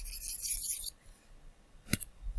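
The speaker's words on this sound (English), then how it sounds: "let me erase a bit" An eraser scrubs briskly for under a second in a dense, hissy rasp, followed by quiet and a single short scrape.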